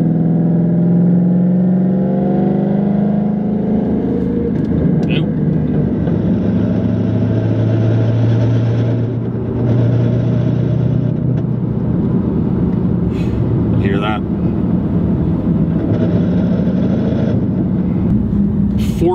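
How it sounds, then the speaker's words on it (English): A McLeod RST twin disk clutch rattles loudly inside a car, a steady clattering racket over continuous engine drone and road noise, with faint talk mixed in. "the one negative to this clutch is it's noisy. It is super noisy. It thing makes a racket."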